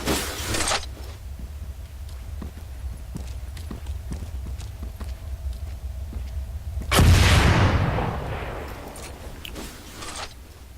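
Rocket fired from a launcher in Arma 3 with the OPTRE mod, a single loud whooshing blast that breaks out partway through after a stretch of quiet clicking, then roars and fades.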